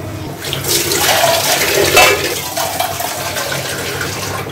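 Hands being washed under a running kitchen tap after handling hilsa fish, a loud steady gush of water that swells and eases, with no talking.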